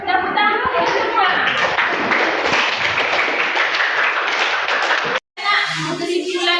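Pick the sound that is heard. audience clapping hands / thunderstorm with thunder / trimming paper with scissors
audience clapping hands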